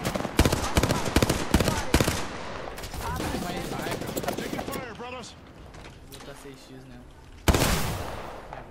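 Gunfire in the video game Apex Legends: a rapid string of loud close shots at the start, then a burst of mechanical clatter and another sharp shot near the end, with voices talking over it.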